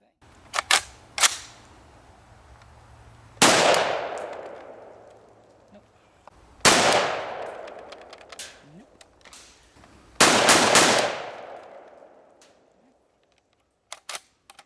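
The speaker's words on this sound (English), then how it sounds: "just finished shooting the same types of ammo through this" Three loud rifle shots from an IWI Tavor or Steyr AUG bullpup firing Tula 5.56 and Winchester ammunition, each a sharp crack with a long decaying echo outdoors, spaced a few seconds apart, with faint clicks and handling noises between.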